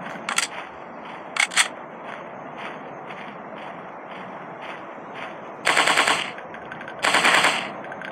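Gunshots in a mobile dinosaur hunting shooter game, several sharp single cracks followed by two longer loud bursts of rapid fire over a low background hum.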